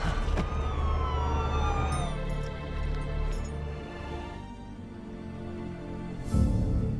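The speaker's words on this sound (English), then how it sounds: "police cars rushed to the scene" A police siren wails in sweeping rising and falling tones over a steady low rumble of traffic, fairly loud and close.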